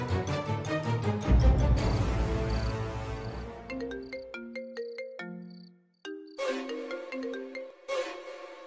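A ringtone chimes in bright repeating melodic bursts on a phone during an outgoing call, pausing briefly and then resuming, loud and close with no talk.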